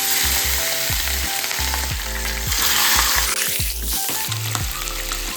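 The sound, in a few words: fish heads frying in hot oil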